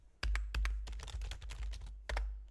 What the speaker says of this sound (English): It also has like really nice clicky keys